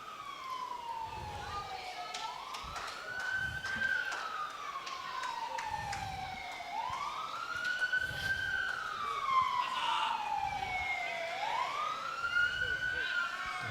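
Emergency siren wailing at a lawn bowls state challenge finals, rising and falling in repeated sweeps from a distance behind the play, under quiet commentary.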